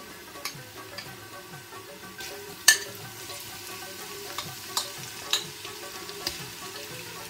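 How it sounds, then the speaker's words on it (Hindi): Garlic frying in a pot for Kabuli chicken pulao, a soft, steady sizzle close by with scattered sharp crackles and pops and no talking. "अब इसमें मैं लहसुन डालूंगी"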